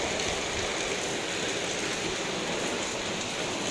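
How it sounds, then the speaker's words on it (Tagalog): Heavy rain pours down steadily, a dense, loud hiss of drops with no pauses and no voices. "Lakas ng ulan guys."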